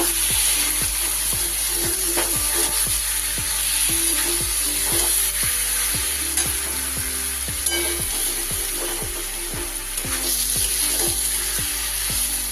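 Dried lote fish being stirred together with fried potatoes in a pan, with a steady sizzle under regular scraping strokes of a spatula against the pan, repeating roughly every half second throughout.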